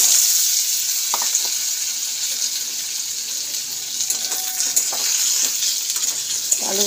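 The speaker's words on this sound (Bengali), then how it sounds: "এবার আলুগুলো দিয়ে দেবো। তো আলুগুলো আগে ভেজে নেবো আমি।" Potatoes fry in hot white oil with a steady, bright sizzle and scattered crackles, close and fairly loud throughout, no talking.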